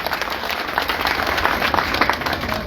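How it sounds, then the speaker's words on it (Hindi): A village crowd at a turban-tying welcome ceremony claps loudly and densely, a continuous roar of hands close by with some faint voices mixed in. "ताली बजाकर जोर से।"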